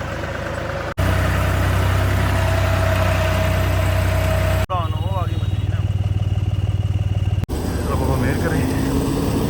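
A farm tractor engine runs steadily and close during potato planting, a loud low drone across the whole clip with brief dropouts between sections; people talk over it.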